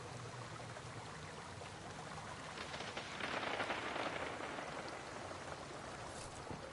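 Steady rushing waterfall in the Destiny 2 game world, a continuous broadband wash that swells a little louder midway, with no talk over it.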